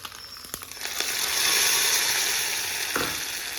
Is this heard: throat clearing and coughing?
no